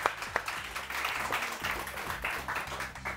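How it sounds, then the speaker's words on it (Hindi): A studio audience on a morning show claps for a guest, a steady moderately loud patter of applause with faint low tones mixed underneath. "बहुत सारी तालियां सीमा जी।"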